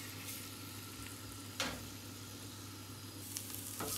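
Potatoes frying in a pan for peri bites, a soft steady sizzle with a couple of brief scraping bursts as they are tossed in and moved about, quiet and close.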